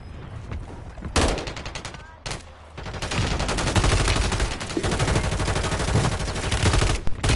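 Rapid bursts of gunfire in a Call of Duty match, loud and sustained with dense overlapping shots after a brief lull, under occasional voices.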